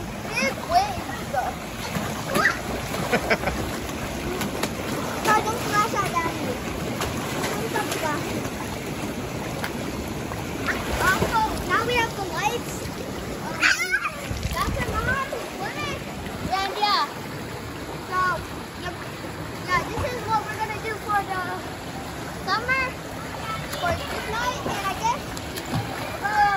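People splash and churn water in a hot tub at night, with near, continuous sloshing and wave splashes under lively family chatter and children's voices throughout.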